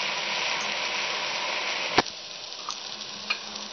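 Chopped onions, browned for restaurant-style masala bhindi, sizzle steadily in hot oil in a pan, with a sharp clack of the utensil midway and a few light ticks afterward.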